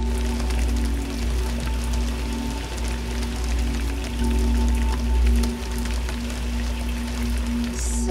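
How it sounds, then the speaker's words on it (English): Torrential rain falls at sea during squalls in the doldrums, a steady dense hiss of raindrops over a low constant rumble, with no voices. "So much torrential rain and squalls and dramatic skies"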